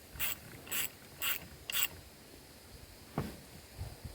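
A ratchet wrench tightens a bolt on a custom seat mount in a 1994-1997 Mazda B-Series/Ford Ranger truck. Four quick, close ratcheting bursts come at an even pace, followed by a single dull knock.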